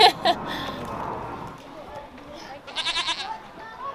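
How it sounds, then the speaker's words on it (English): Goats at a petting zoo in the Nashville Zoo bleat in a quick rising series after scattered hoof and crowd noise, with people talking nearby. "We just had a goat stampede."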